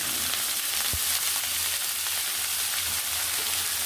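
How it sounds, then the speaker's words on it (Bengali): Cauliflower florets tipped into hot oil already holding whole cumin, bay leaf and dried chili, giving a steady, close, dense sizzle with one sharp splash near the start and no talking. "এবার দেখুন কপিগুলো আমি ঢেলে দেব।"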